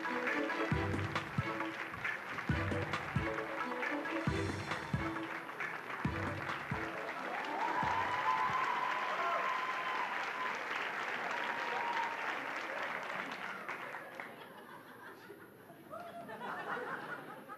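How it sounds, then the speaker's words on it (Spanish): A comedy-show audience gives a loud welcoming round of applause to a comedian, with scattered laughter and a few thumping sounds early on, the clapping thinning out toward the end. "reciban con un fuerte aplauso al señor Diego Mateus"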